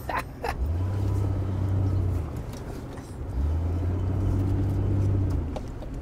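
V6 engine of a 2004 car running outdoors in the desert, a loud steady low rumble that swells twice in long revving surges with a brief dip between, close and continuous with no talk.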